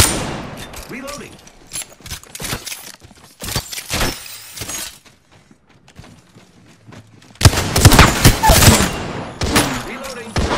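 Rapid gunfire in the video game Apex Legends: short clusters of sharp, crackling shots break out around two and four seconds, then a dense, louder volley with shattering impacts runs from about seven and a half seconds to the end.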